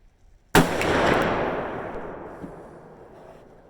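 A single loud, close shot from a Ruger Super Blackhawk .44 Magnum revolver firing a handload cracks sharply and then rolls off in a long, slowly fading outdoor echo, with no talking.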